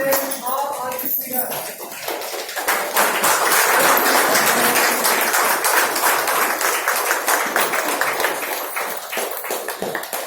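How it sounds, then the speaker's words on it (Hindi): An audience claps steadily to welcome a guest onto the stage at an event in Mumbai, a dense, sustained round of applause that builds and holds, with a voice speaking over the start. "एक बार तालियों के स्वागत से"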